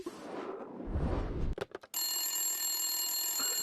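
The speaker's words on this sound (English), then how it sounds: "This week, we get another phone call on the fantasy hotline." A telephone rings for an incoming call to a fantasy hotline: a loud, steady electronic ring with bright tones holds for about two seconds after a burst of preceding noise and a short gap.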